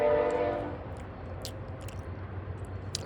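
A train passes close by with a long, loud horn blast at the start, then a steady low rumble of wheels and cars rolling past, with a few sharp clanks over the rumble.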